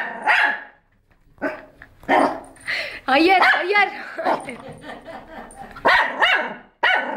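A pet dog barking and yelping repeatedly while a pet turtle chases it at home, sharp close barks and whimpers in bursts, mixed with excited talking from people nearby.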